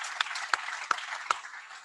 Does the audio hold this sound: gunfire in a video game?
no